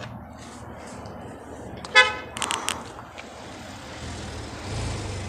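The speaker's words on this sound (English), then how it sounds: "Some jerk in a 1911 Porsche just drove by" A car horn toots briefly as a vehicle drives past on a street, with a few short horn blasts standing out over outdoor background noise.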